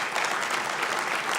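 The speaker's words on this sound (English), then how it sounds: "a big round of applause" Steady applause from an indoor audience at an arts advocacy event, a dense even clatter of many hands with no talk over it.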